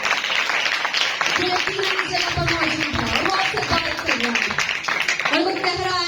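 Church congregation at a sermon breaking into vigorous applause, dense clapping under a loud voice speaking over it.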